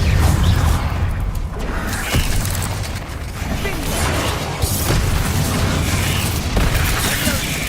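Blast spells Confringo and Bombarda going off in Hogwarts Legacy, a dense run of loud booms and bursts over a constant rumbling game soundscape with whooshing impacts throughout.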